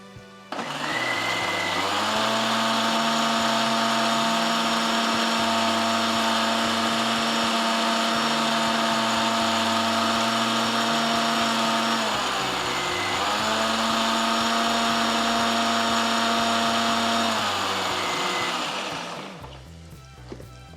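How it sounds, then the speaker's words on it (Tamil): A mixer grinder whirs loudly and steadily while grinding spices for egg curry, briefly dipping in pitch midway before resuming, then winding down near the end with no talking. "இன்னும் அரைக்கணுங்க இன்னும் கொஞ்சம் அரைச்சிக்கலாம்"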